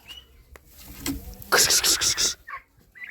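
Turkey poults in a farmyard give a brief burst of high, shrill cheeping, loud and close, after softer scattered sounds, with a little talk nearby.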